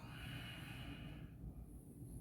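A slow, soft exhale during a yoga session, a steady breathy rush that fades out, heard faintly and alone.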